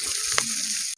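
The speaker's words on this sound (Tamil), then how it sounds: "முட்டைகோஸ் எண்ணெயில போட்டு வதக்கிக்கலாம்" Cabbage sautés in oil at an outdoor farm cooking spot, a dense continuous sizzle with one brief clatter, ending abruptly after about a second.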